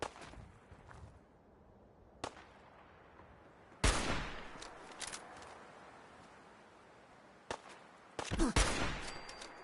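Scattered gunfire in Fallout 4: sharp isolated shots early, then louder bursts of shots near the middle and end, over quiet ambient background.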